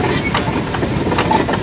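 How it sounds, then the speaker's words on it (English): An 1895 Frick steam traction engine runs at a steady, loud level with faint rhythmic chuffing and hiss, and mechanical clatter rises in the mix at points. "This is the oldest running steam traction engine on the ground today."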